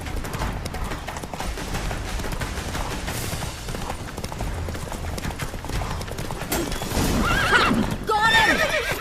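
Roach, the horse from the video game The Witcher 3, gallops with steady hoofbeats under a busy battle soundscape and then gives a loud, shrill neigh near the end.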